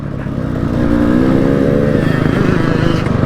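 A 300cc two-stroke enduro motorcycle engine running close by, its buzzy droning note rising as it revs up and then holding steady and loud.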